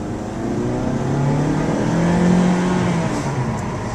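A Mazda Skyactiv car accelerates, its engine drone holding steady and swelling slightly in pitch and loudness, heard from inside the cabin with no talking.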